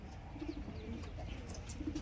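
Soft, low pigeon coos repeat a few times over a gentle background murmur.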